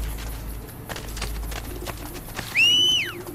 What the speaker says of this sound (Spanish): He llamado a mi caballo, ¿no? Pues quiero mi caballo.